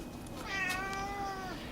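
A cat gives a single drawn-out meow, rising then falling, fairly faint over a low background hum during a snowy blizzard day in Murfreesboro.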